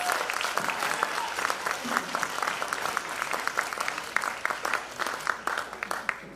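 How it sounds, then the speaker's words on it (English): Audience applause after a Bharatanatyam dance recital, steady and moderately loud, with individual claps popping out close by against the wash of a seated crowd. "I think that deserves another round of applause"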